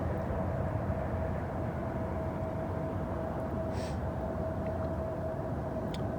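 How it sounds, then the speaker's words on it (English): A train rolls steadily under a bridge beneath a coal train in Ohio, making a continuous loud rumble with a faint high tone running through it and no speech. "I wanted to get the train coming under the bridge underneath the coal train"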